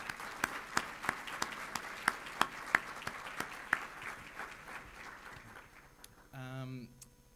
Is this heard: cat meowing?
no